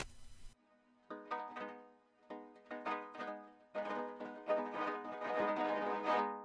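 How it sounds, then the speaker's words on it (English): Vinyl noise fed through Ableton's Resonator turns into metallic, ringing tones, a short burst of noise followed by resonant pitched hits that swell and grow denser, played alone. "it kind of gives your sound like this metal kind of resonant"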